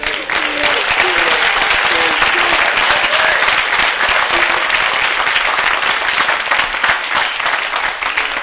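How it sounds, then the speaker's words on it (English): An audience applauds Dr. Clayton at the Constance Clayton Lecture, with dense, steady clapping that stays loud and sustained throughout, along with a few scattered voices and cheers mixed into the crowd. "And can we give a round of applause for Dr."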